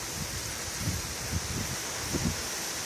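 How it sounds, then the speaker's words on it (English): Wind picking up during a dust storm in Phoenix, Arizona, a steady broadband rush with soft low gusts pulsing through it, moderately loud and continuous with no talking. "Here comes a little bit of wind."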